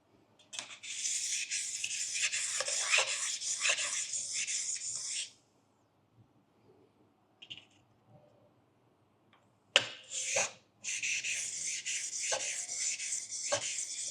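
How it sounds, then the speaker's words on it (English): Two sharpening stones rubbed together to flatten one, making a soft, gritty back-and-forth scraping in two bursts separated by a quiet gap with faint taps, close and alone. "it's also a good solution to flatten the stone using another stone"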